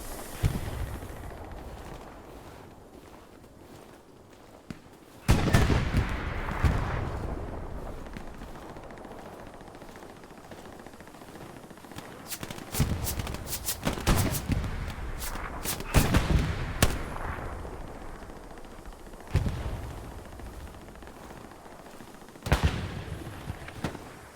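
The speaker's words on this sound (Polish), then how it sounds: "Słyszę jak strzelają Amerykańcy." American soldiers fire in the World War II shooter game Hell Let Loose: a dense, loud battle din of rolling volleys, rapid bursts and booming blasts that swell and fade over a constant rumble.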